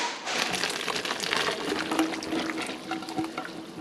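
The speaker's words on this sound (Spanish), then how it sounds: "Ahora llegó el tiempo de echarle nuestro maíz." Canned hominy corn being poured into a pot of green pozole, giving a steady wet sloshing and splashing pour with liquid stirring, close and fairly loud throughout without talk.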